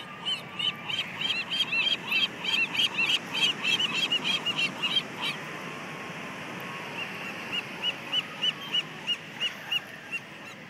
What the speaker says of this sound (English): all the seagulls from the beach found her and know that she's giving them food